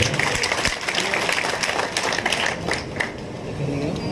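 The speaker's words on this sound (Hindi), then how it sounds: "एक बार जोरदार तालियां उनके स्वागत में हो" An audience at a public foundation-stone event claps to welcome the housing board chairman, continuous applause with crowd murmur underneath throughout.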